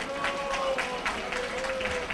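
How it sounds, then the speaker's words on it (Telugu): A church congregation clapping their hands together in rhythmic, repeated bursts that fill the room, with voices and a sustained tone running beneath the applause. "దేవునికి చప్పట్లు కొట్టి మహిమపరుద్దాం."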